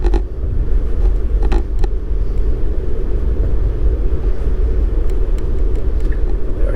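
Inside a Tesla driving along a wet road in the rain, a loud, constant low rumble of tyres and road noise fills the cabin, with faint occasional clicks and creaks on top.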